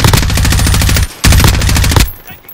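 M4A1 rifle fire in a video game, two loud rapid automatic bursts close up separated by a brief pause, with no voices over them.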